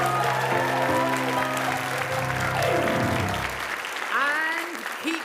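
Audience applause bursting out at a live afternoon improv comedy show as the cast is brought on, loud and sustained throughout, with a voice briefly rising over the clapping near the end.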